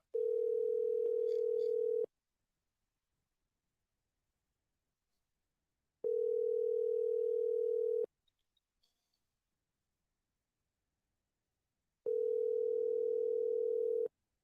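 Telephone ringback tone on an outgoing call, three identical steady two-second tones separated by four-second silences, clear and close, with a few faint clicks in one gap.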